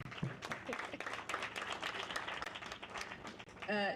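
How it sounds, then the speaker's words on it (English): An audience claps for a speaker at a university youth forum against corruption in Kirinyaga, Kenya. Dense, steady applause stays fairly quiet throughout, and a voice cuts in briefly at the end. "Let's give him a clap."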